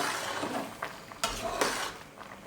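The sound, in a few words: spoon stirring boiling rice in a pot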